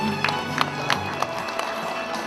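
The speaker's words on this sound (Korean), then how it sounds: "여러분 박수 부탁드립니다" Audience applause at a 2019 consumer awards ceremony as a winner is called to the stage, a dense wash of hands with a few sharper claps standing out, continuous and moderately distant throughout.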